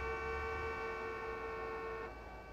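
A sustained car horn blare in the Taxi Life city driving game, one steady tonal honk held for about two seconds before dropping away, moderately faint over low background noise.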